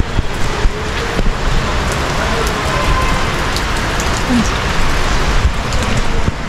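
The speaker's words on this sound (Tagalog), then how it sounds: "Ang ulan. So, tingnan nyo ang ulan." Steady rain falling on surfaces on a rainy Saturday, a constant dense patter with scattered louder drops, loud and close throughout with no talk.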